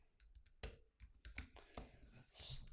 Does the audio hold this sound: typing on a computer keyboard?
yes